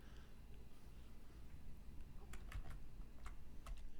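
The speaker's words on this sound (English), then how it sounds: "Did you hear a little bit of typing?" Faint, sparse computer-keyboard keystrokes tapping in a quiet room under a steady low background hum, a few clustered clicks near the end.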